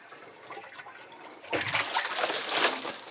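Water poured from a container into a bucket packed with garden weeds, a soft trickle swelling into a louder, steady splashing gush close by.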